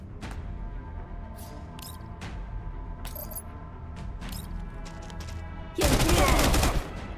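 Gunfire in the shooter game Girl's Frontline 2 ends in a loud, dense burst of shots lasting about a second, after several sharp scattered cracks over a steady bed of game music and ambience.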